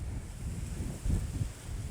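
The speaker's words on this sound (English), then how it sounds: "Oh, this wind." Gusty wind buffets the microphone outdoors on a hillside, a steady low rumble that swells and surges loudest midway, with no other sounds standing out.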